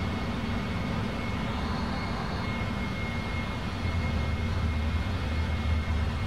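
Airliner engines spooling up for takeoff in a flight simulator, a steady broadband jet roar with a thin high whine, growing slightly heavier and more rumbling toward the end.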